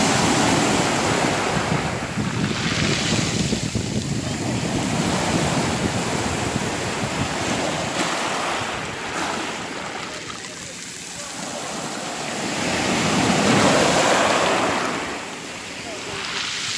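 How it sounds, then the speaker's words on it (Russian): Sea waves roll and wash onto the shore, the surf swelling and receding in slow surges with steady wind buffeting the microphone. "Но все равно прекрасное море. Прекрасный берег."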